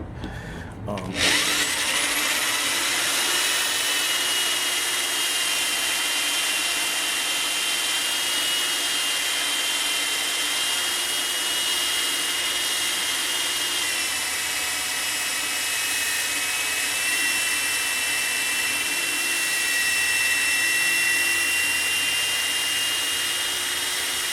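A power drill with a worn bit bores holes into the sheet-metal trunk of a Dodge Dart Swinger, one steady, loud, high-pitched whine running unbroken for over twenty seconds, close by.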